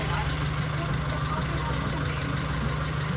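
A Suzuki Futura engine idles at around 700 RPM with a steady, close, low mechanical hum, unchanging throughout.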